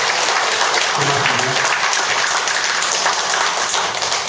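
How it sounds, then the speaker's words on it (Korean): Loud, dense applause from an audience at a Buddhist lecture session thanking a guest singer and speaker, continuous clapping close by, with a brief spoken thank-you under it. "좋은 노래와 좋은 말씀을 남아님께 다시 한번 큰 박수 부탁드리겠습니다."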